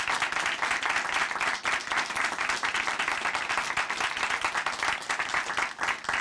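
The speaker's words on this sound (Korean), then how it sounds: "다시 한번 박수 부탁드립니다." A church audience during a Korean Christian testimony program claps in sustained, dense applause, steady and fairly loud for several seconds.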